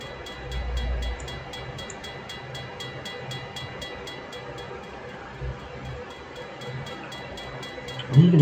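A video-game train rumbles along with a low, steady rolling drone and faint rhythmic clicking, quiet and continuous throughout, with a louder thump near the end.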